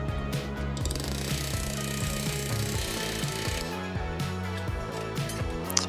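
Hammer forming a sheet metal bucket seat cab brace for a 1969-72 Chevy/GMC C10 against a die: rapid, rhythmic metallic hammering blows repeating steadily and loudly throughout, ringing with a clanging tone.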